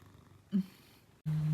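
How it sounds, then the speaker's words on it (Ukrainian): A cat purrs close by in two short low rumbling bursts separated by a brief pause. "в мене тут один котик, другий котик, третій котик"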